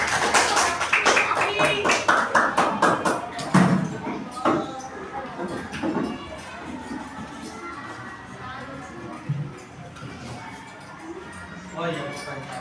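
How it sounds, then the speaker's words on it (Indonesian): Hands clapping at a home tahlilan gathering, a burst of taps and claps in the first few seconds that thins out, with voices talking and calling throughout. "Kasih tepuk tangan."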